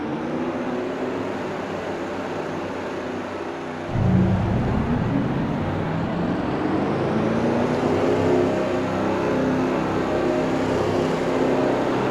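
Field of race car engines firing up and revving at a Daytona dirt race, a low steady rumble that suddenly swells into a loud, dense roar as many engines catch and drone together.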